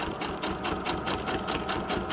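A sewing machine stitching through paper, a fast rhythmic run of mechanical clatter with evenly spaced pulses, close and continuous with no voices.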